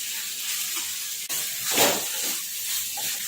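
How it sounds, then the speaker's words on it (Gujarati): Roasted mixed vegetables with tomato ketchup and coriander stirred in a hot pan, giving a soft sizzle and a brief scraping swirl of the spoon, close and fairly quiet. "હવે મિક્સ કરી લઈશું।"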